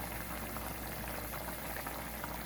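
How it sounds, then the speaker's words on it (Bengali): A fish curry in a pan comes to a boil after water is added, giving a quiet, continuous bubbling simmer with no voices. "পানি দেওয়ার পরে তরকারিতে একটু জাল উঠে গেছে।"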